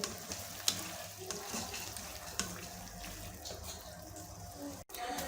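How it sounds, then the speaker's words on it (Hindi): Chicken jalfrezi sizzles steadily in a pan in restaurant-style cooking, a continuous hiss and crackle with occasional stirring clinks, fairly close and even throughout. "दो से 3 मिनट हमने फ्राई करना है अभी।"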